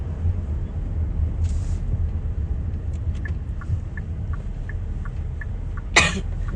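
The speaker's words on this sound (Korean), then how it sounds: "제가 조금 계속 기침을 하더라도 이해해주세요." A woman with a bad cold coughs sharply twice inside a moving car while commuting home, over a constant low road rumble and faint ticking.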